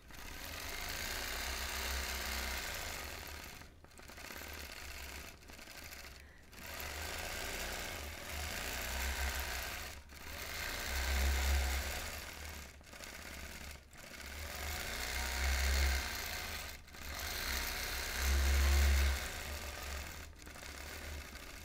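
A longarm quilting machine stitches a quilt in a loud, steady mechanical whir with a low thrum, pausing briefly several times and then resuming, with no talk.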